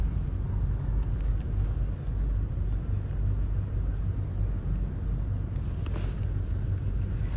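Road traffic in the Philippines heard from inside a car, a steady low engine and road rumble with faint passing noise and no talk.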